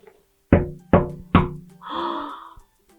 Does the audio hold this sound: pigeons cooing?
no